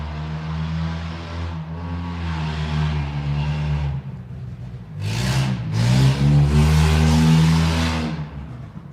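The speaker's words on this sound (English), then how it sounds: "Sorry, we get people with their recreational vehicles." A recreational vehicle's engine droning outside, rising and falling as it passes, with a second louder surge of revving toward the end, heard alone without talk.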